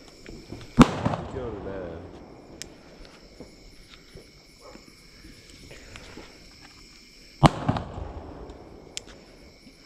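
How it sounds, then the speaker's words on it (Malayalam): Two sharp loud bangs from a small firecracker set off during Deepavali, each followed by a brief ringing decay, with a night insect chirp and quiet background between. "ഇത് ചെറിയ ഗുണ്ട്."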